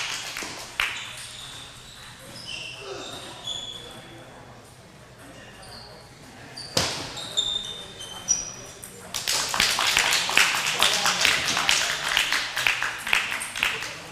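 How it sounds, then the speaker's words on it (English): Audience applause fills a packed club hall during a coed team final at a college table tennis regional, swelling into dense, sustained clapping late on, with ball taps and a commentator's voice over the top. "You can hear the applause."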